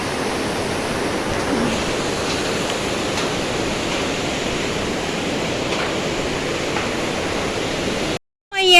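The Tamor river rushes under a bridge in Taplejung, a loud, steady broadband roar of flowing water that runs unbroken for about eight seconds before cutting out abruptly near the end.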